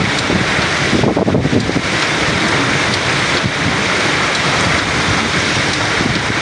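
Heavy monsoon rain pours steadily with gusting wind, a dense continuous roar throughout and no voices.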